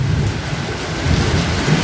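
Thunder rumbles low and heavy during a steady rainstorm, with dense rain hissing on surfaces throughout, loud and close, with no voices.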